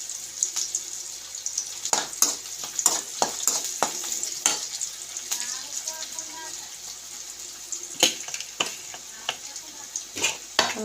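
Chicken fries in a pan while a spoon stirs it, producing a steady soft sizzle. Sharp scraping and clattering strokes break in at irregular intervals, and the whole stays fairly quiet and close.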